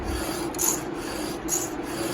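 A file rasping across a semi chisel saw chain tooth in short, steady strokes, close and continuous with a gritty scraping texture and no voices.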